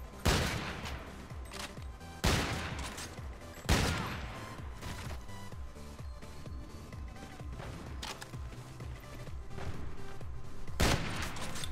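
Shots fired through walls in the shooter game Call of Duty: Infinite Warfare, a few sharp bursts a couple of seconds apart early on, then a busy rumbling game mix and one more loud burst near the end.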